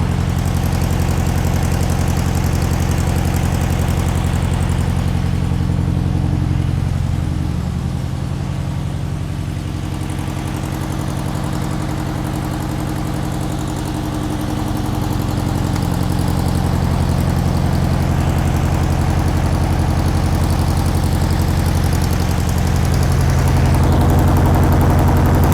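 A 1500 air-cooled VW Beetle engine, unstarted for fifty years, idles roughly with a loud, close, continuous chugging throb that wavers unevenly, with uncleaned carburettor and irregular knocking pulses through it.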